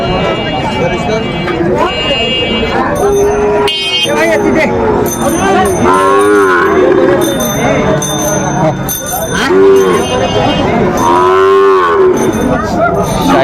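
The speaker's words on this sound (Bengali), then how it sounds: "শাহিওয়ালের সার সেরা মানের গরুটি বেশ সুন্দর" A Sahiwal bull lows repeatedly at a busy cattle market in Chittagong, giving several loud, drawn-out moos over a crowd of chattering voices, with bells ringing in the background.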